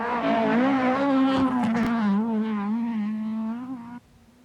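Opel Manta rally car on bumpy rally roads, a loud close engine holding a steady high drone with slight wavering pitch, then dropping off abruptly near the end.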